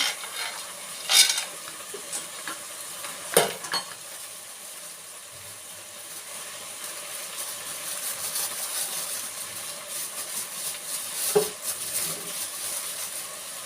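Peanuts and roasted gram are stirred in a hot pan while cooking drumstick leaves: a faint, steady dry frying hiss with a few louder scraping clinks from the spoon near the start and later on.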